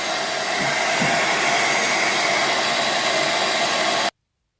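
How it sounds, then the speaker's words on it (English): A hair dryer blows loudly and steadily for about four seconds, a dense continuous rush of air, then cuts off abruptly. "I'm going to hairdryer this."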